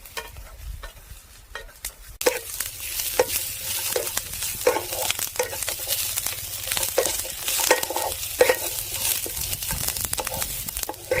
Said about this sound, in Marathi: कोथिंबीर घालून 1-2 मिनिटं सगळं मटेरियल आपण परतून घेऊया